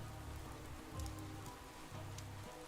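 Steady rain in a game world, a constant hiss of drops on surfaces filling the background at low volume, with faint tonal game sounds beneath and no voices.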